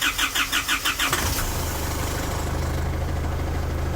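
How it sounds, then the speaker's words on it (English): Isuzu 4J diesel in a damaged ute cranks with a few rhythmic starter pulses, then catches and settles into a steady, loud, low idle rumble with no talking. "Let's crank it over."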